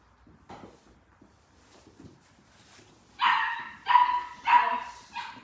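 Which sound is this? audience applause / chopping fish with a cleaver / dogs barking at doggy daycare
dogs barking at doggy daycare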